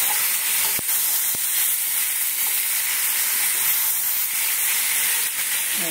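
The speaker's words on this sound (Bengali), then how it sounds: "মৌরি আর জিরে, জিরে ভাজা" Fennel and cumin seeds frying in hot oil give a loud, continuous close-up sizzle and hiss that stays steady throughout, broken only by a couple of faint clicks, with no talking.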